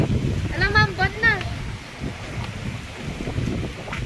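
Strong wind ahead of a typhoon roars steadily into the microphone, with a brief spoken voice early on over the buffeting gusts.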